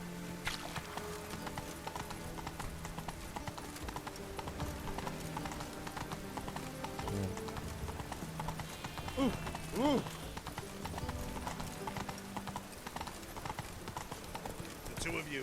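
Roach the horse galloping in The Witcher 3, a steady run of hoofbeats heard close throughout, with a brief whinny partway through and voices talking over the gait.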